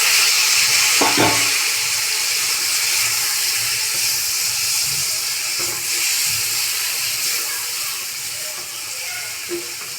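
Water hits a hot pan of onion and chopped tomato with a loud hiss and bubbling sizzle that keeps going steadily, punctuated by a few clanks of a utensil.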